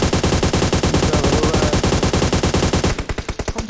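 Rapid automatic gunfire in the mobile game PUBG Mobile, a dense, loud, evenly spaced stream of shots that slows into a few separate bursts at the end, with no talk.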